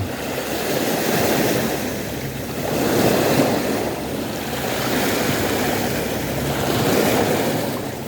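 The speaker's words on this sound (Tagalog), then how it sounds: "Lumakas yung alon." Strong ocean waves surge at a Sydney harbour fishing spot, loud rolling swells rising and falling in steady cycles with wind buffeting the microphone and no voices.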